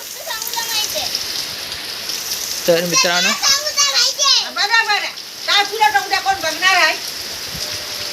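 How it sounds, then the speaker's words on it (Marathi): A constant hiss of falling rain runs in the background while someone talks over it in bursts. "थोडासा कमी झालाय पाऊस आता उजेडले"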